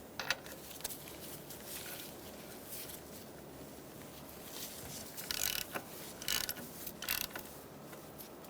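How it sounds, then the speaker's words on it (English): A ratchet fitted with a 16mm socket loosens valve cover bolts on a 2007-2012 Nissan Altima 2.5L four-cylinder, giving close bursts of rapid clicking ratchet ticks separated by quieter pauses. "I'm going to use a 16mm socket."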